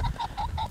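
Rooster pheasant cackling as it flushes ahead of a hunting dog, four quick harsh honking notes in even rhythm, close and loud.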